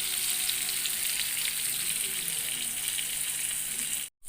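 Fish pieces frying in a pan give a steady, dense sizzle and crackle that holds evenly close by, then cuts off abruptly just before the end.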